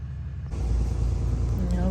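A car pulling a trailer out of a campground at San Mateo, San Onofre: a low engine rumble swells as the vehicle starts moving, with people talking over it.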